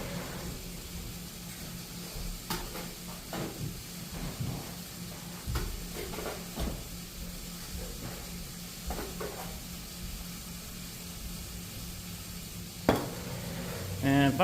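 About three cups of sugar stirred into six cups of boiling water in a temple kitchen pot, a steady hissing simmer with scattered scraping spoon strokes and clinks, a voice briefly speaking near the end.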